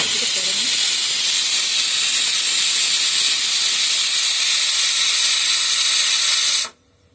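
Lentils (dal) boil on a home stove, releasing a loud, even hiss of steam that runs steadily and then cuts off abruptly near the end.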